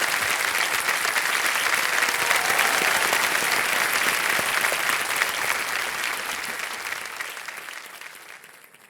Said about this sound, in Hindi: एक बार फिर तालियों के साथ आपका स्वागत।